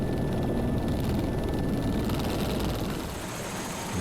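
A helicopter kept running during refueling, its engine and rotor producing a continuous loud broadband roar and whine that holds steady, easing slightly near the end, with no talking.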